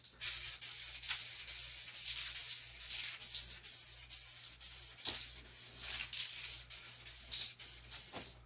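Spraymax 2K clear coat hisses from an aerosol can onto a motorcycle tank in short repeated bursts, a close airy spray with brief pauses and a faint clack between passes.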